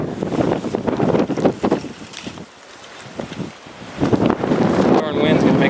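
Strong wind buffets the microphone in gusty, roaring surges during an archery pronghorn hunt from a ground blind in Kansas, easing briefly before swelling again.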